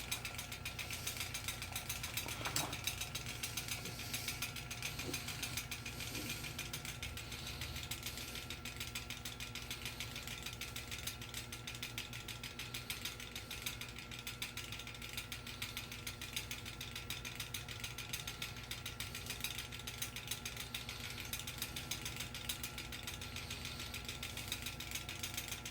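A Kemco Koldaire 2-201 fan running with a loose center badge that rattles steadily, giving a fast, continuous buzzing chatter over the motor hum, faint and unbroken with no talking.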